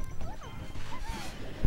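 Peach forward smash attacks land during a Peach ditto match in Super Smash Bros, sharp cartoonish whacks and crashes mixed with swooping game effects, busy and close, ending on a heavy impact.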